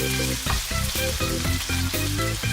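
Water hits a hot frying pan and sizzles loudly and close, a continuous hiss with pulsing bursts that repeat about every half second through the short stretch.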